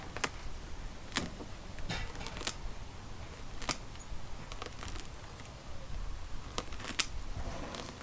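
Scissors snip around the roots of a trident maple bonsai during repotting, a scattering of faint, sharp clicks at an uneven pace against a soft background hiss.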